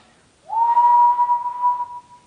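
A single sustained lip whistle holds one clear, steady pitch for about a second and a half, loud and close, then tapers off with nothing else around it.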